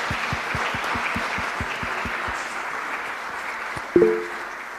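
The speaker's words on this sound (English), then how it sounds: "I like to ask a big applause for all the speakers" An audience at a cultural heritage project kick-off meeting applauds the speakers with steady, dense clapping and a few distinct claps early on, ending in a louder thump.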